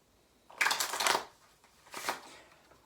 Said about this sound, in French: vous pouvez emprunter le jeu de cartes à vos spectateurs ou bien le mélanger